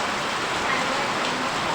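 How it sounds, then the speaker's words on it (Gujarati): Heavy rain falls steadily, a dense close hiss of drops pouring down without pause. "આ વરસાદે પલાળી દીધા જુઓ તો મિત્રો આપણે વરસાદ આવ્યો"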